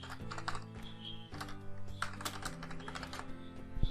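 Someone types a description on a computer keyboard, a quick irregular patter of close key clicks running the whole time over a faint background hum.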